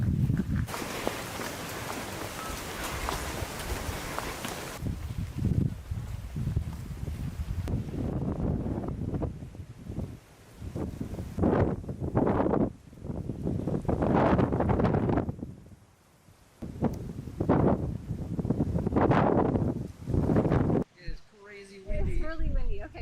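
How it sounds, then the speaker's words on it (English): Strong wind on the trail to Mt. Britton Tower in Puerto Rico's El Yunque rainforest buffets the microphone, roaring loudest at the start, then gusts in bursts between people talking and footsteps. "It's really windy."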